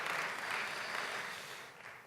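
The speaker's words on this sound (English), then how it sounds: "Let's give her a round of applause." Audience applause at an Albanian Independence Day celebration in New York City Hall for a New York State Assemblywoman, a steady wash of many hands clapping that fades slightly toward the end.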